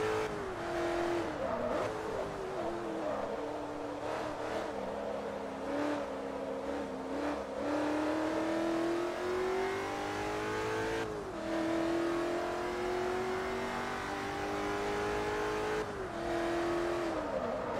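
Race cars in Forza Motorsport 3 roaring through a race, engines revving up and down in long rising sweeps with gear-change dips, loud and continuous, with faint tire noise.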